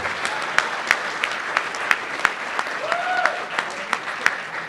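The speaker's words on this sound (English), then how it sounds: "I'd like to ask for a round of applause for the terrific piano player, Bobby Dornan" Applause rises from a banquet audience at a business awards evening, honoring a piano player and the serving staff, with a few loud individual claps standing out and a voice briefly speaking over the clapping.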